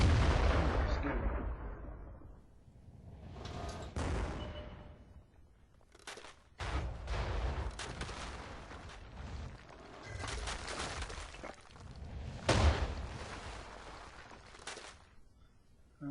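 The KV-1S tank's cannon fires in World of Tanks, a heavy boom fading into a long rumbling tail, followed by several sharper repeated shots and bursts of gunfire with faint talk between them.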